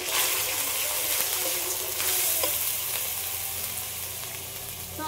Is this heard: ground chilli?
yes